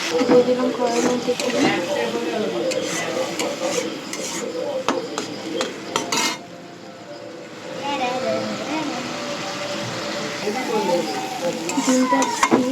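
Egg frying in a wok (kadai) with salt, turmeric and chilli powder, stirred steadily; continuous near sizzle with scraping strokes throughout, dipping briefly midway, with a voice talking over it.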